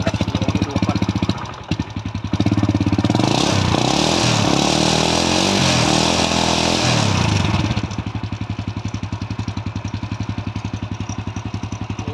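A used motorcycle engine cranks and catches, roars loudly for several seconds, then drops to a steady, close, rhythmic idle with no talk over it.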